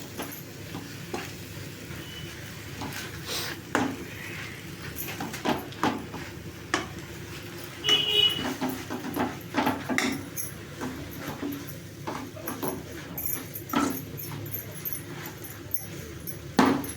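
Drumstick leaves are stir-fried with pepper powder in a pan, giving soft, steady scraping and clinking from a utensil against the pan, with faint sizzling underneath, in repeated short strokes.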